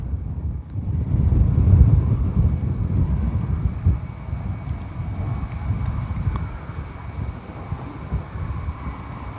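Wind gusts over open farmland on a cloudy day in Manning, Alberta, producing a deep, buffeting rumble on the microphone that swells early, then eases into a steadier, softer blow.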